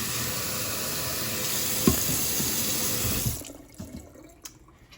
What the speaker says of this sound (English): Some fresh water.